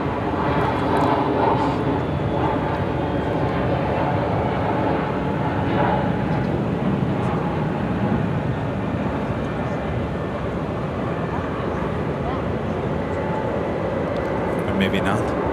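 KLM Boeing 787 Dreamliner taxiing at O'Hare airport, a steady distant jet engine hum and broad rumble running throughout, with people talking over it.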